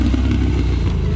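A Can-Am Renegade 800 ATV rolls downhill on engine braking, its engine giving a loud, steady, close drone with a low rumble that holds throughout.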